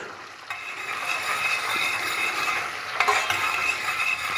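Holbor greens frying in kaymak (clotted cream) in a pan, a steady close sizzle with soft stirring scrapes running throughout, a slightly louder burst near the end.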